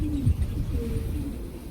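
Pigeons coo from inside a deep well, a few soft rounded calls echoing faintly against low background noise.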